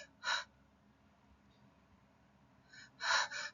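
A voice imitates Cheyne-Stokes breathing: a breath, a long silent pause, then a louder crescendo-decrescendo cluster of breaths, close and otherwise quiet.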